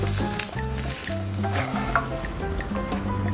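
Egg toast topped with a slice of cheese and a sprinkle of sugar frying in a pan, giving a steady close sizzle under soft background music.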